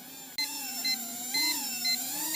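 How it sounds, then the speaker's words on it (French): Short high electronic beeps repeat in pairs over a steady whirring motor hum, a Hubsan H122D X4 Storm drone's low-battery warning. "Donc là, vous entendez le minimum batterie."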